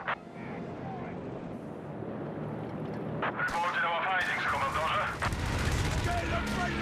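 Gunfire and explosions from a strafing run in the Company of Heroes 3 video game, with dense rattling bursts that build louder partway through, mixed with battle noise.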